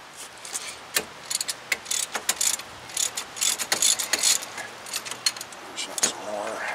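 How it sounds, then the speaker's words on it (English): Ratchet wrench loosening a front brake caliper bolt on a 2005 Lexus ES330, a close series of rapid metallic clicking bursts in an uneven rhythm, with a voice speaking briefly. "Ratchet."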